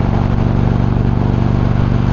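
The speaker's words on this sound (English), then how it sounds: "this one's got some volume when she's revving, but so does the Roadmaster now" A Victory Cross Country motorcycle engine runs loud and close with an even, throbbing drone that holds steady throughout.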